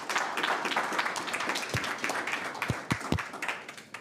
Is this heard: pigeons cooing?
no